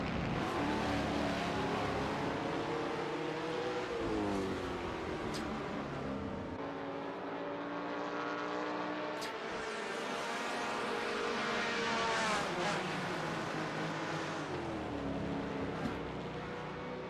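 1970 touring race cars from the Custom Tourer Championship round at Buenos Aires roar around the track, engines rising and falling through gear shifts as several cars pass close and loud.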